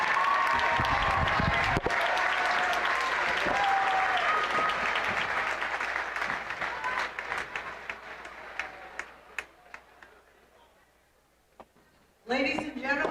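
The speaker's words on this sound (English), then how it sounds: "Let's give Jake one more big round of applause." Applause from a crowd in a high school gym at a boys basketball game, a loud sustained wash of clapping that slowly thins to scattered claps, then swells again briefly at the end.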